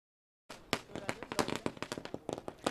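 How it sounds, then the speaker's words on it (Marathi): Firecrackers set off at a cricket match to welcome an arriving guest, a rapid string of sharp cracks and pops going on without a break. "फटाक्याचं स्वागत करताना दिसत आहेत आयोजन नियोजन"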